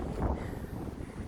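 Gusty outdoor wind buffets the microphone on a cold farm outing, a steady low rumble with no voices for about a second and a half.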